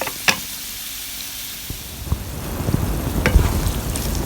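Onions and aubergines fry in oil in a pan, a soft steady sizzle that grows louder and denser toward the end, with a few light clicks of a utensil against the pan.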